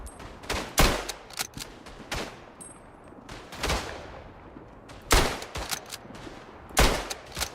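Gunfire in the World War I eastern-front shooter Tannenberg: several loud, sharp shots and short bursts, some close and some farther off, separated by quieter gaps.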